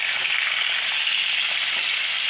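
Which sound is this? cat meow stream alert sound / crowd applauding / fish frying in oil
fish frying in oil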